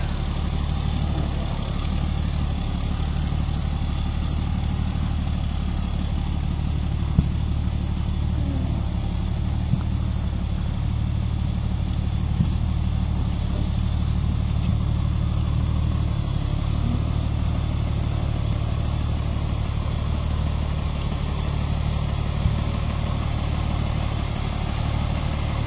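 A cabless M543A2 military wrecker truck runs steadily with a deep, constant diesel drone and vibration, close and loud throughout, moving slowly with no one speaking.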